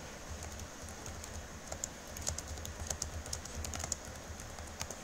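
Rapid, irregular clicking of fingers typing on a computer keyboard, close and fairly quiet, with bursts of keystrokes over a faint room hum and no talking.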